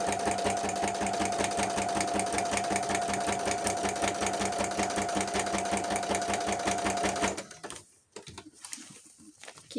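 An electric sewing machine stitches fabric for a junk journal, a fast, steady mechanical whirring and ticking close by for about seven seconds, then it stops, leaving quiet handling noises.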